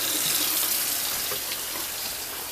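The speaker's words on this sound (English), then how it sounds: "I'm going to rinse it off with some nice hot water" Hot water runs steadily from a hose to rinse off an item during a retrobrite restoration job, a continuous broad hiss close by with no talking.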